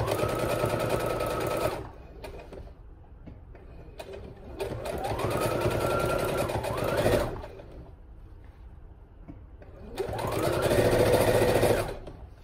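A sewing machine stitches a hem on a small fabric market bag, humming in three sustained runs. Each run speeds up and slows down, with quieter stretches of fabric handling in between.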